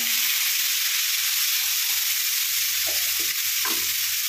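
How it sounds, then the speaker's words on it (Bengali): A ground paste of onion, ginger, garlic and tomato frying in hot oil for a spicy prawn dish, a loud constant sizzle with a few soft stirring scrapes near the end, close by and without voices. "আর এই গরম তেলটার মধ্যে মশলাটাকে ভালো করে কষিয়ে নেব।"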